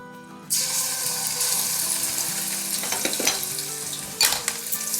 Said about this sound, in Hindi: अब इसमें हम डाल देंगे 1 टेबलस्पून भर के लहसुन का पेस्ट है और 1 टेबलस्पून भर के अदरक का पेस्ट है